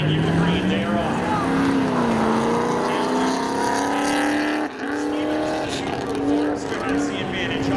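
Spectator drag race cars launch at Seekonk Speedway, engines rising in pitch as they pull away, heard from the stands while an announcer calls the race over the roar.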